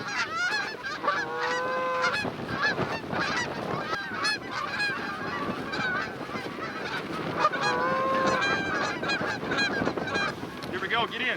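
Geese honk in flight during a goose hunt in Oregon, a dense chorus of many overlapping calls, near and loud, continuing throughout with faint human sounds underneath.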